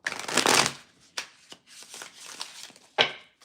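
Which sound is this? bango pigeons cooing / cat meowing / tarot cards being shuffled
tarot cards being shuffled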